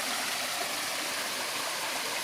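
A garden waterfall pours steadily, a continuous close rush of falling water with no pauses and no voices.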